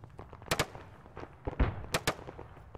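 A secondary explosion during an Arma 3 military assault near a mortar pit, heard as a scatter of sharp bangs and pops mixed with a deeper thump, several loud bursts spread across a couple of seconds.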